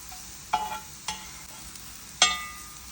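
Slices of Nendran banana frying in oil with salt in a pan, a soft steady sizzle broken by a few sharp stirring scrapes and clinks, close and clear with no talking.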